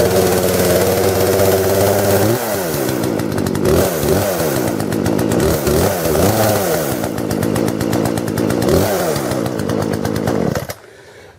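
A cheap 14-inch chainsaw runs loud and close, its two-stroke engine rising and falling through several revs before settling into a rough idle, then cutting off abruptly near the end.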